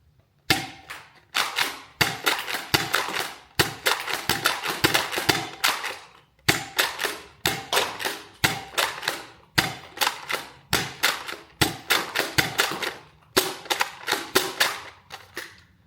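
Rapid volleys of sharp pops from a modded foam dart blaster, shot after shot in quick bursts with brief pauses, loud and close with no talking.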